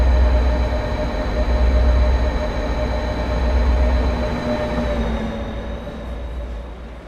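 A train in the Train Sim World 2 video game, bound for Washington, D.C., rumbles steadily with a low, heavy drone and a faint high whine, running alone with no voices and easing slightly toward the end.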